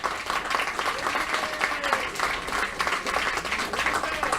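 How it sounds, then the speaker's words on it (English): An audience at a mind sports victory ceremony claps steadily in a hall for a player, a broad even wash of applause with faint voices underneath. "Big round of applause for Agricola."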